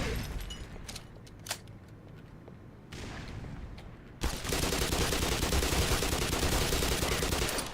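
SMG fire in a shooter video game: a few scattered shots, then sustained rapid automatic bursts that grow loud and dense toward the end.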